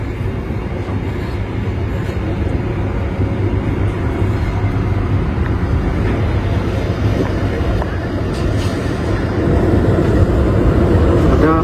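The Airlangga passenger train rolls past with a loud, steady rail rumble and clatter that grows heavier toward the end, while people talk underneath.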